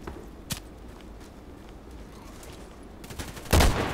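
Sniper rifle shots in a shooting game, a sharp crack early on, then faint scattered pops, and a louder, sustained burst near the end, all over a low background.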